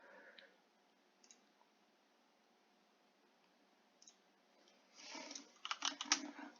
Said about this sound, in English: now I'm going to type my other words in here